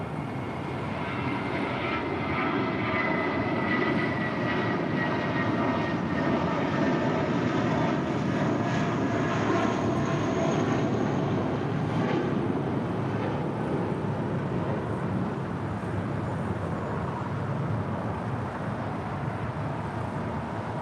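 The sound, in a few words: JetBlue Airways airliner taking off at LAX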